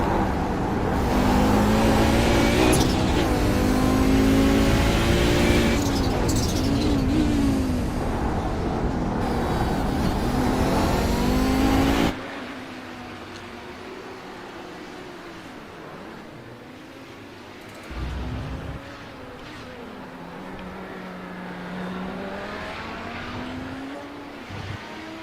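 Audi 90 GTO race car at Sebring in sim racing, heard from inside the car: a loud, rising engine roar under acceleration that drops abruptly midway to a quieter, lower engine note with occasional surges.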